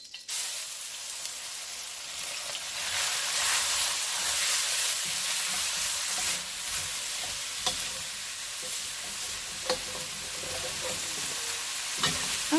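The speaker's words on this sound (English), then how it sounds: "we're going to start stir frying and cooking these" Marinated chicken sizzles and fries in hot oil in a wok over high heat, a steady loud hiss with scraping stirs and occasional clanks running throughout, no voices.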